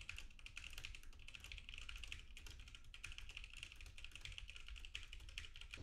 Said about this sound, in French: un test de frappe au clavier permet de tester la résistance au bruit du microphone